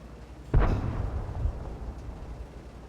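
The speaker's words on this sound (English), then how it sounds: "Who just shot high explosive at that guy?" A high-explosive tank shell fires in World of Tanks with one sharp, heavy boom, followed by a rumbling tail and a softer second thump.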